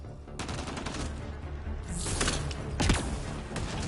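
Bursts of automatic gunfire from the Mass Effect Andromeda game crackle at close range, growing sharper around the middle with a heavy thump near the end, and no voices over it.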